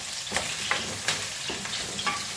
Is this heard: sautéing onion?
yes